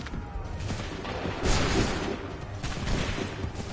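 Volley of musket gunfire in the video game Assassin's Creed 3 Remastered, a dense continuous crackle of shots with booming low rumble, steady and loud throughout.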